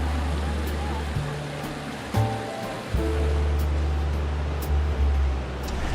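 Water splashes and trickles steadily in a backyard pond water feature, a continuous close wash with a low hum underneath and occasional brief knocks.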